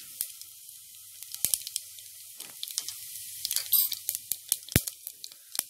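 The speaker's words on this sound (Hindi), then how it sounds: "हमारा ऑयल गरम हो चुका है, मैं इसमें 1 चम्मच ये जीरे का डाल दूंगी।" Cumin seeds dropped into hot oil, a close, crackling sizzle full of sharp pops and spits that grows busier over several seconds.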